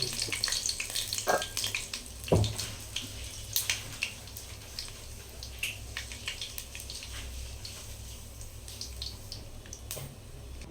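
Whole spices, cinnamon, cloves, shahjeera and bay leaves, sizzle and crackle in hot oil in a home kitchen, a steady close frying hiss broken by scattered pops and a few clinks, with no voices.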